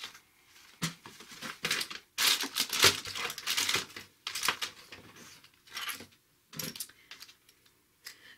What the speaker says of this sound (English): So I'm using my small scissors, and down here is where I'm going to remove this little piece.